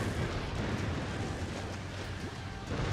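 Fire rockets launch in a Shogun 2 multiplayer battle, a loud dense roaring whoosh of massed rocket fire with rumbling blasts, sustained and unbroken without talk.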